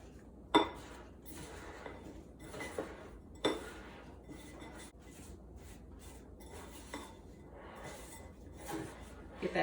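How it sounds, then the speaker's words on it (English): A utensil stirs apple pieces through a cinnamon and sugar mixture in a bowl for mini apple pies, with soft scraping and occasional sharp clinks against the dish at an unhurried pace. "I'm going to stir my apples in my cinnamon and sugar mixture to cover each apple"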